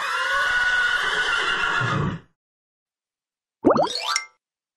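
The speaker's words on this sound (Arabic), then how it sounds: "حصان" A horse whinnies in a long, loud, quavering call, then after a short silence gives a second, shorter neigh that rises and falls.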